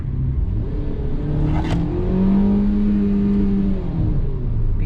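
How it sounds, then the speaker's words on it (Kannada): A Hyundai Exter accelerating hard on an Indian road, its engine drone climbing steadily in pitch and holding loud and continuous throughout, with no talking. "ಸೊ ಈಗ ಪಿಕಪ್ ಕೊಡೋಣ ಅಂತೆ"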